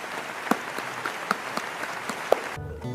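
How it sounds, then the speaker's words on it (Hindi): Scattered, thin clapping from a small audience at a love-themed talk session, a few sharper claps standing out before it cuts off abruptly near the end. "एक बार इन लोगों के लिए जोरदार तालियां तो हो ही जानी चाहिए"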